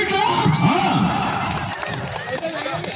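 Crowd at a village bullock cart pulling contest in Nandavaram, Emmiganur taluk, raising a loud burst of cheering, whoops and shouts that stay dense for three seconds and ease off slightly toward the end.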